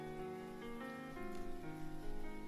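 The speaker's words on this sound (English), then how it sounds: "this is relaxing over the garden wall music with background rain." Soft rain patters steadily beneath gentle, sustained tonal music in a relaxing Over the Garden Wall arrangement, quiet and continuous throughout.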